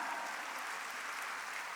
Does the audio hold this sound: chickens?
no